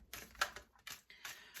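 Tarot cards are shuffled by hand in quick, soft riffling bursts, a handful of crisp papery flutters spaced over under two seconds, faint and close.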